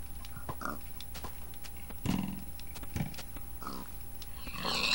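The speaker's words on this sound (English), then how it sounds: "There's a pig!" A Minecraft pig on Xbox oinks and grunts several times in short bursts over a low steady game hum, moderately close, with no one talking.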